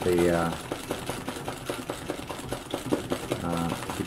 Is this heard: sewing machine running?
yes